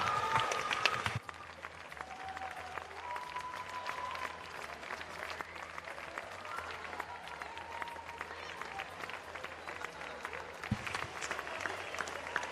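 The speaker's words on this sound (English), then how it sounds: "can I ask you for a big round of applause for your 2018 Lancashire Swimmer of the Year," Applause from the crowd at a Lancashire county swimming championships, greeting the 2018 Lancashire Swimmer of the Year; steady, moderately distant clapping fills the hall throughout, with a low mechanical hum underneath and a sharper burst near the start.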